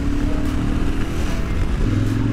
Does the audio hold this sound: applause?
no